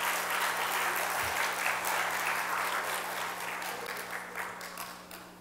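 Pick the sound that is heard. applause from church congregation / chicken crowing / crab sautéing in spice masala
applause from church congregation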